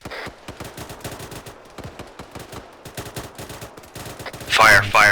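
Rapid gunfire in Arma on the Chernarus map, a dense run of close bursts and single shots rattling throughout, with a voice shouting near the end.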